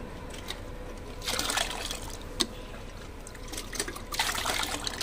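Homemade liquid rose fertilizer poured into a bucket filled with 20 litres of water, a steady close trickle and splash with louder gushes in bursts.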